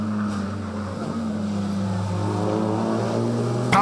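An Audi race car at Dezzi Raceway drones past with a steady engine note, its pitch climbing slightly, loud and close for a few seconds.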